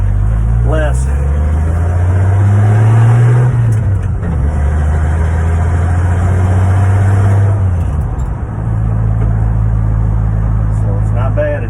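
1977 Ford F150 Custom two-wheel-drive pickup with a 300 six-cylinder engine, heard from inside while driving, a loud engine drone rising and falling through gear changes with road rumble throughout.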